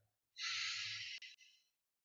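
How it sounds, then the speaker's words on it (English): A single long, close, breathy inhalation of fresh air, drawn in steadily, then a brief catch and a short trailing breath at the end. "sooner or later, you'll need to inhale fresh air"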